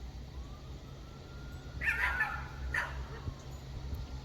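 Seymour, a pet dog, outdoors with a few short yelps and high whimpers that rise over a steady low hum of background noise. The sounds are fairly faint and a little distant.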